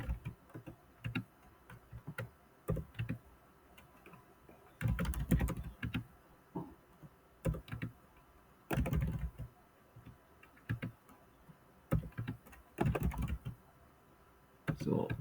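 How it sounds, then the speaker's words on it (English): Typing on a computer keyboard while setting up variables in Code.org App Lab: quiet bursts of rapid keystrokes separated by pauses, close by, with occasional soft talking. "typing and not paying any attention to you guys"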